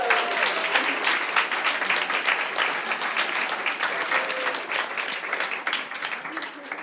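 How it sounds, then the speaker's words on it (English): An audience at a women in entrepreneurship event applauds and cheers, a dense, bright burst of clapping that stays loud for several seconds before easing slightly toward the end. "I want to see some applause that you are applauding everybody around you with cheers"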